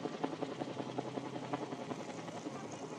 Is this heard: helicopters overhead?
yes